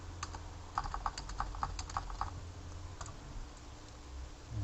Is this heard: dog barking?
no